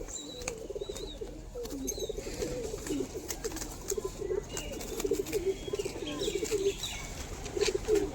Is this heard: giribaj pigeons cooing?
yes